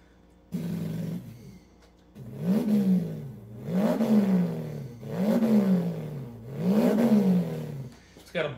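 Mouth-made imitation of a Subaru WRX rally car engine with a Blitz exhaust pipe: a hum, then four rising-and-falling revving bursts in a steady rhythm, each swelling up and dropping back, loud and close with no other talk.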